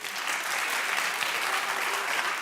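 A burst of enthusiastic clapping from an audience, dense and continuous throughout, fairly loud and close with no one speaking.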